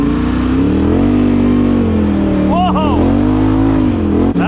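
A Can-Am Outlander ATV engine roars loud and close at sustained high revs, pitch climbing and dipping as it pushes through mud in high range, with a shouted voice over it.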